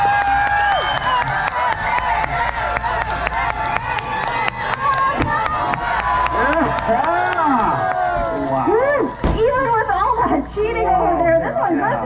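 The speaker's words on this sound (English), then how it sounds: "make sure you guys cheer the green side on extra loud" A lively crowd cheers and shouts continuously at a live lumberjack show race at the PNE, with whoops and whistles rising over a steady roar and talk mixed in throughout.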